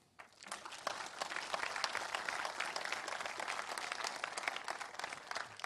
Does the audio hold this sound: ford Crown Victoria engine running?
no